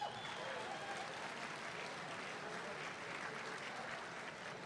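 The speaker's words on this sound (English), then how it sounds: "Please give them a round of applause." Sustained audience applause fills a university engineering commencement ceremony, a dense, steady wash of many hands clapping at moderate distance for the valedictorian and speaker, with no talk over it.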